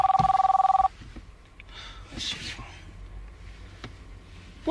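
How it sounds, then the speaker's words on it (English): A telephone rings with a rapid, repeated electronic trill that is loud for about a second, then quiet room noise follows before the ring starts again at the very end. "Who just called my phone?"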